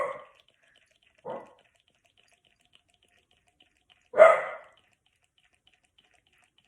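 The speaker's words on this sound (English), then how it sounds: "My dog's barking." Two short barks from a dog some distance away, a pause, then a louder, sharper bark in an otherwise quiet room.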